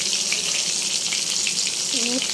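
Bata fish frying in a pan with kochur chora, a steady broadband sizzle running throughout at close range, with a brief clink of utensils near the end.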